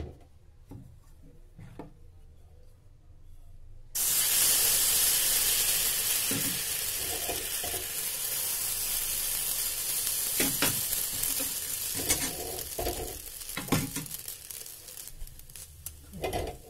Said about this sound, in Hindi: गैस की फ्लेम कम और अब इसमें फिर तेल डाला हल्का सा